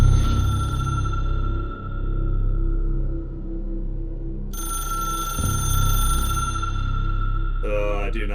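Telephones ringing in the office setting of the video game Control, a steady tonal ring pattern that cuts out, returns, and sits over a constant low rumbling hum.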